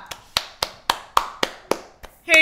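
Eight sharp, evenly spaced claps from video game characters at a snowball fight, loud and close, with a brief bright chime at the end.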